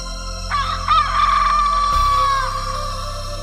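A cartoon hen gives one long, strained squawk that rises and then holds steady for about two seconds before fading, set over a continuous background soundtrack.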